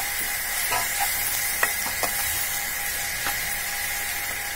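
Turmeric, coriander powder and red chilli powder sizzle and get stirred in a pan for egg bhurji, giving a steady hiss with a few light scraping taps.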